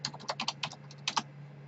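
A burst of quick keystrokes on a computer keyboard as a date is typed, about a dozen light clicks in an uneven rhythm, close and isolated, ending in a quiet pause.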